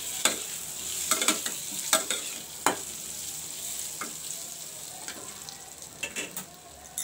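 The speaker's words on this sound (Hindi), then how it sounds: "इसे भी मिक्स करके हम इसमें आलू ऐड कर देंगे और इन सबको अच्छे से मिक्स कर लेंगे।" Potatoes with a little turmeric are stirred into hot oil for achari aloo: a quiet, constant sizzle with repeated scraping and clacking of a spoon against the pan, in irregular bursts.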